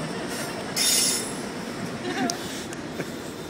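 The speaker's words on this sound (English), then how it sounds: "Choo choo!" A train passes at moderate distance with a rumble, a brief wheel squeal and faint rail clinks, while people talk nearby over it.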